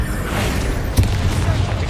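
A Confringo fire spell blasts in Hogwarts Legacy during combat, one short loud boom over a rumbling battle background.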